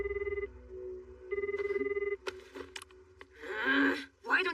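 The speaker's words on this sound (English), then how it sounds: "Why don't you answer your phone, Fushikuro?" An incoming call rings on a phone in an animated series, two bursts of a bright electronic ringtone trilling at close range, followed by clatter and an indistinct voice.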